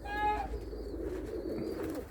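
A pigeon coos softly nearby, a low repeated murmur over faint background hum, with a brief higher chirp at the start.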